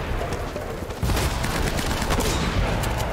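Rapid bursts of gunfire in the video game Uncharted: Drake's Fortune, including shotgun blasts, fill the clip with dense, loud, overlapping shots that grow heavier after the first second.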